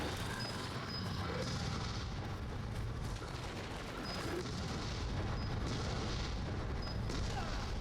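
Remote bombs going off in the survival horror game Resident Evil 7, a dense, continuous rumble of booming blasts that stays loud and broadband throughout, with no clearly separated individual explosions.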